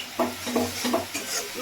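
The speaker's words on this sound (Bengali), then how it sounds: "মশলাটাকে একটু ভালো করে কষিয়ে নিতে হবে।" Spice paste with salt and turmeric, for a fish tok dish, fries in a pan while being stirred: a soft hiss broken by about four rhythmic scraping strokes, close and moderately loud.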